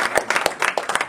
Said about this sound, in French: Applaudissez quand même pour